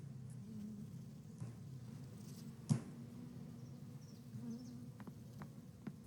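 A lethal, threatening insect in The Hand of Glory video game buzzes steadily and faintly for several seconds, with a few soft clicks and ticks scattered through the drone and no one talking.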